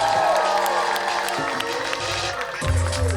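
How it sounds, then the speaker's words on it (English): Comedy show audience at the Underbelly venue bursting into loud, sustained applause and cheering, a dense wash of clapping and whoops that swells near the end. "start the clapping, start the cheering"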